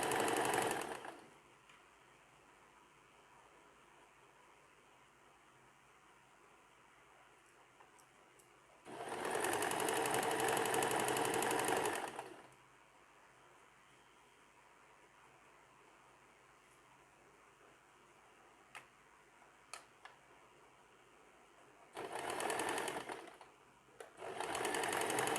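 A sewing machine stitching oversized night pajamas, three runs of steady fast whirring stitches, the longest about three seconds, separated by quiet pauses with faint handling clicks, close and loud.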